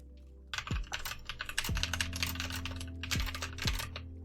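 Close, steady typing on a computer keyboard during a quiet focus cowork session, with dense clattering keystrokes and a few heavier thuds, no voices.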